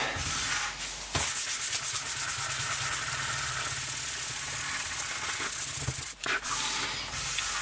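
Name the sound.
sanding a wooden guitar body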